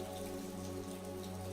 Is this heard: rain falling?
yes